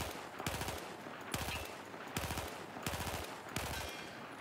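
Rifle in Battlefield 4 firing four quick three-round bursts, each a tight cluster of sharp cracks separated by brief pauses, loud and close with no voices.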